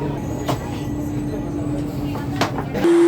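A Chennai metro train hums steadily inside as it departs Central station, low rumble with faint rhythmic clunks as it starts moving, a tone sounding near the end.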